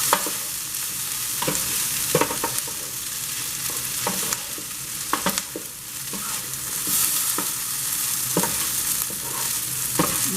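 Rice, zucchini and onions sizzling on an outdoor flat top griddle, a constant frying hiss broken by regular scraping and clacking of a spatula as the food is stirred.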